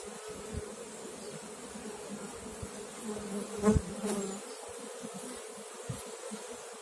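Honey bees buzz steadily and close by as a hive is opened for an early-season inspection, a dense continuous hum with one brief louder swell as a bee passes near; no one speaks.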